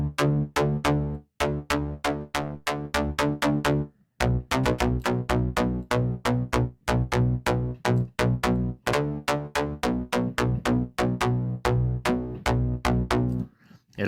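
A Moog-style synthesized bass patch built on the Europa synth in Reason 12, damped and with some lows EQ'd out, plays a steady run of rhythmic sustained notes with brief gaps, alone and without talk.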